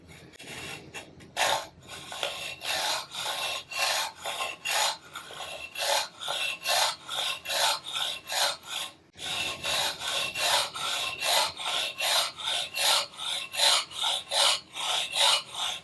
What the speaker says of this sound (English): It cuts better with a regular hacksaw than I thought it would.